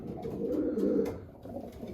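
Pigeons coo in a loft, a steady low warbling murmur that swells and fades over a couple of seconds, close by with no talking.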